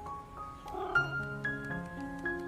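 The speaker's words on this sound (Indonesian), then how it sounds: "Beralih ke kucing oranye yang mengeluarkan suara aneh." An orange cat lets out a strange, drawn-out wavering cry, its tone sliding up and down over a soft background.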